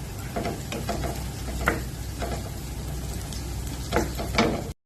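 Green chillies fry in a frying pan for a prawn roast, giving a steady close sizzle throughout with a few soft stirring scrapes and no talking.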